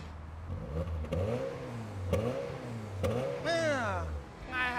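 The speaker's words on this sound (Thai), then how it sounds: "ไปฟังเสียงท่อกันหน่อยดีกว่า" Honda Civic FD exhaust revved close by, with several rising and falling blips in a deep, smooth engine tone, ending in a higher, sharper rev as people talk alongside.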